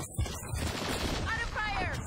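Rapid gunfire rattles through a shooter video game in close, loud bursts under a steady combat din, while a game voice calls out over it.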